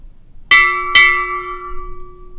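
A ship's bell rings twice in quick succession at a US Navy retirement ceremony, two sharp metallic strikes about half a second apart, each leaving a long ringing tone.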